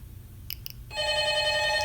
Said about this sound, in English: my phone rings, so I have to go